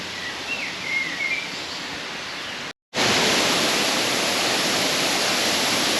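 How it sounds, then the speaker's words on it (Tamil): A mountain waterfall near a village in Reichenburg, Switzerland, roars as a constant broadband rush, softer at first with faint bird chirps, then louder and closer after a brief cut to silence. "இந்த தண்ணி மலையிலேருந்து வர தண்ணி தானே அங்கே நீர்வீழ்ச்சியாக பாயுது"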